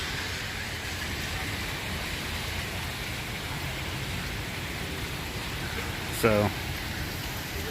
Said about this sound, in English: it definitely rained, and there's definitely thunder